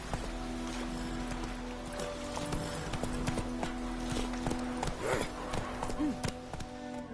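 The horse Roach trots in the video game Witcher 3, with steady rhythmic hoof clip-clops on the ground, close and continuous, under light ambient game sound and a brief voice.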